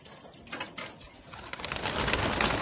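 Racing pigeons released at the start of a 290 km race, with cooing and a rising rush of wing flaps that builds and thickens toward the end, close by and fairly loud.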